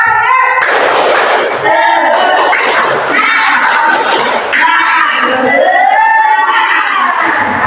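A class of children stands and performs a rhythmic spirit clap in a classroom, loud, close bursts of slapping hands in patterned runs mixed with shouting and giggling voices.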